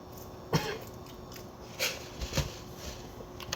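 A person on a podcast about Squid Game lets out three short, rough coughs, close to the microphone, in an otherwise quiet room.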